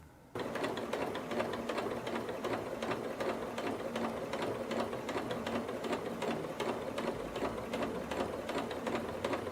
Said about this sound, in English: Now I'm going to bring it to the sewing machine and top stitch around the whole thing.